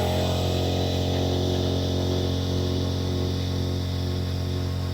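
An air compressor powered by an EcoFlow electric generator drones continuously with a strong low hum and buzzing overtones, running nearby, steady and loud with no talking.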